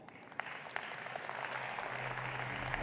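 A summit audience at the World Travel & Tourism Council gathering claps to welcome Saudi Arabia's tourism minister, a dense, steady burst of applause filling the hall that swells slightly toward the end.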